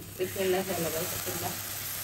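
Water poured into browned onions and spices in a hot pan hisses and sizzles in a brief burst, then settles into a softer steady crackle, close by, with a voice talking over it.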